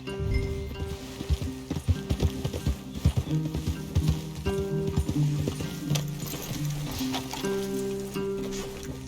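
Hooves clip-clop steadily as horses walk along in Red Dead Redemption 2, with an occasional snort or whinny over a low rumbling background.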